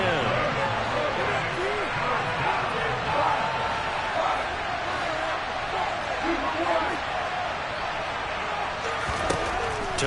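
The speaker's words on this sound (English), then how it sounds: "Crowd getting in it a bit already." Steady stadium crowd roar fills an American football video game, a continuous swelling murmur under a play-by-play commentator talking throughout.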